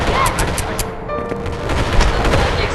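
Explosions and gunfire in the multiplayer PvP video game Animal Company: dense, loud bursts of rapid shots and booms rattling continuously, with a brief lull midway.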